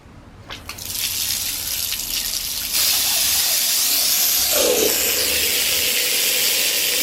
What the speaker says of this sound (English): water is pouring all around